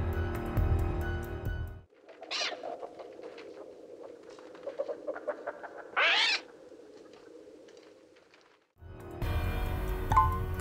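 Bird sounds from the horror film The Birds: between stretches of louder noise, a quiet pause holds scattered chirps and fluttering, with two sharp rising shrieks standing out.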